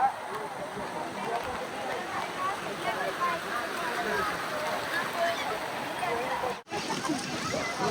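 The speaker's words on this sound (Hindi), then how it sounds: "बारिश हल्की हो गई है परंतु हो रही है।" Light rain falls steadily along a Himalayan mountain trek in Himachal, a soft constant patter and hiss with no breaks apart from a momentary dropout near the end.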